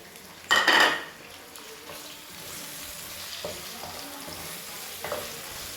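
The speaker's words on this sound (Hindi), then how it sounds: "ये 2 प्याज लिए मैंने मीडियम साइज़ के ये, और इनको मैंने हल्का सा सौते करना है, फ्राई गोल्डन नहीं करना" Two medium onions sauté lightly in a pan, opening with a loud burst of hissing sizzle and clatter as they hit the hot oil, then settling into a quieter, steady fry with a few scattered utensil knocks.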